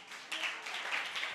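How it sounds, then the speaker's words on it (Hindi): A church youth program audience breaks into applause: a short, moderately soft burst of many hands clapping together, steady and even, heard from a little distance without talk. "एक बार ताली बजाए"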